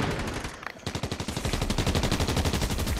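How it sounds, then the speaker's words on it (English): Rapid automatic gunfire in a Fortnite battle royale match, a dense run of shots after a brief lull, loud and close, continuing steadily to the end. "Oh, somebody's shooting."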